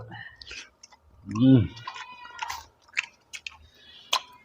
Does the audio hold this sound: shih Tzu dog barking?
no